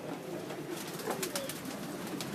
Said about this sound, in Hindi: इस वक्त ये सबसे ऊपर ये घर वाली छत है जी शहजादे भाई की, जिसमें ये पुराने कबूतर पड़े हुए हैं।